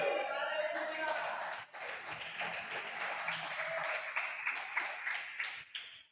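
Church congregation applauding, a crowd of hands clapping in a bright, dense burst that settles into scattered, uneven claps with a few distinct sharp smacks near the end, voices mixed in.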